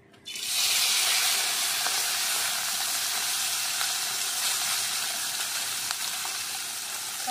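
Mourola fish hitting hot oil in a pan, setting off a loud, steady sizzle that starts abruptly and continues as a dense hiss throughout, slowly easing a little, with no talking.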